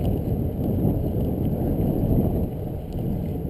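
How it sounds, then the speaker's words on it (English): Wind from the north blowing head-on into the microphone while riding an Espin Aero ebike up a grade, a loud steady rumbling buffet with no talking. "Still, wind from the north, it's in my face."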